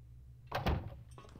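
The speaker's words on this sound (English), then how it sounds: "I hear other doors opening." A door opening in the stealth video game The Dark Mod, a short low creak and thunk heard faintly in the distance.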